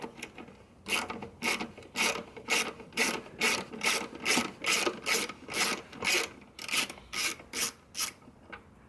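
Ratchet with an 8mm socket backs out a bracket screw on a Jeep Wrangler 3.6L, a steady run of about fifteen quick rasping clicks in even strokes, close and alone.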